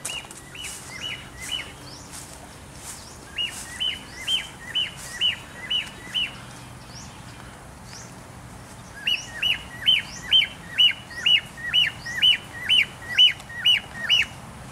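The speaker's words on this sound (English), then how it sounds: "go see some birds." Loud birds near a grape vineyard in Chiang Mai let out a few scattered calls, then a rapid run of repeated squawking chirps, pause, and launch into another long, evenly paced series of piercing calls.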